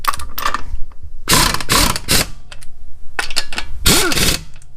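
Ratchet wrench clicking in quick bursts while snugging bolts on the lower control arm of a 2006 Nissan Altima, several close, loud runs of rapid pawl ticks separated by brief pauses.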